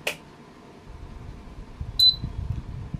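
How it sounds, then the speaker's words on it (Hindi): An inverter air conditioner control board gives a single short, high electronic beep as power is applied, clear and close over a faint low hum, with a brief click just before. "इसमें जो बीप का आवाज़ भी आप लोग सुन ली है"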